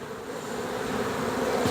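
A swarm of honey bees drones in a dense, continuous buzz, loud and close, steady throughout with no voices.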